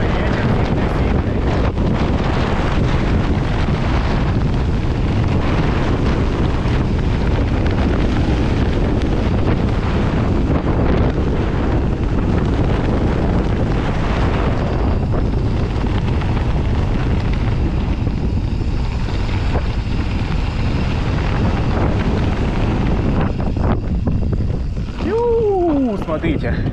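Strong wind roars steadily across the microphone for the whole stretch on a mountain bike park trail, loud and blustery, with a faint engine-like hum underneath.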